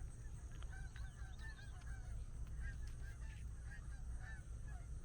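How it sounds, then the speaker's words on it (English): Geese honk repeatedly at Cape Point, Buxton on the Outer Banks, several birds calling in overlapping bursts at moderate distance over a steady low outdoor rumble in early morning. "Here come the geese."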